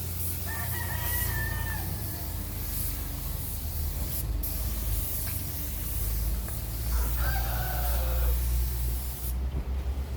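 Steady spray-gun hiss while a fifth coat of paint goes onto a car body during a body and bumper paint job, a continuous airy wash over a low workshop rumble, with faint rooster crows in the background.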